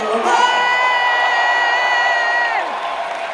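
A concert crowd at a show cheers, whoops and shouts together in a loud, continuous roar that holds steady for about three seconds, with some high voices, before easing slightly.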